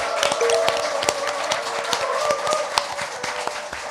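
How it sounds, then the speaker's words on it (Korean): Studio audience clapping at the start of a Korean political talk show, a steady medium-loud patter of applause with a few sharp individual claps standing out, lasting throughout. "여러분의 힘찬 박수와 함께 시작하겠습니다"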